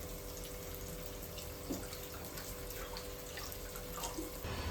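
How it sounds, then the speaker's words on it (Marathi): Water is poured into a mutton masala curry in a soft, continuous, fairly quiet stream with a little splashing, heard alone against a faint background hum. "मी त्याच्यामध्ये पाणी टाकते आणि त्याची क्वांटिटी वाढवून घेते"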